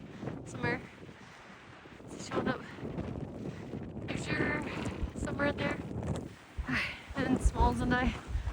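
Strong wind gusting across an exposed mountain trail on a long-distance hike, roaring and buffeting the microphone throughout, with a hiker talking over the blustery noise.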